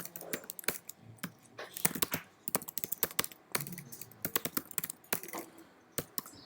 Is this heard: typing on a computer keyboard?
yes